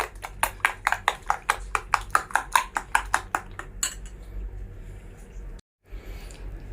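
Utensil rapidly whisking omelette ingredients in a bowl, a steady run of about twenty close, bright clinking strokes that stops abruptly, followed by quieter kitchen background.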